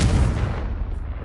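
A Confringo fire spell from the Hogwarts Legacy video game bursts as a single loud, heavy boom right up front, then rumbles and fades over about a second.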